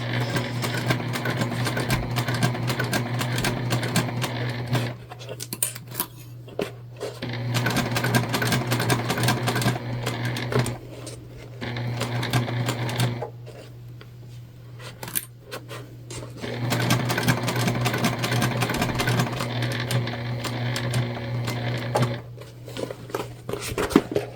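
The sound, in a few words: sewing machine stitching a bag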